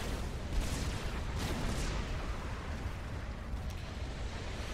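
Artillery fire in the real-time strategy game Supreme Commander 2, heard as a steady low rumble of distant explosions with a few softer booms rising out of the wash, no voices.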